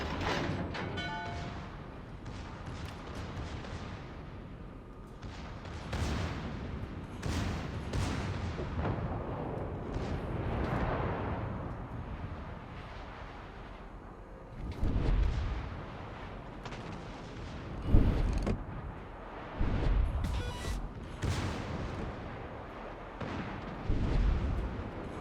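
Heavy guns of the West Virginia battleship firing in World of Warships, with deep booming salvos and rumbling blasts repeating through a continuous din of battle, loud and close, with no talking.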